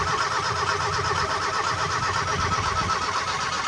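Mazda Miata engine turning over on the starter during a compression test, a loud, continuous rapid churning whir held steady without catching, with no talking over it.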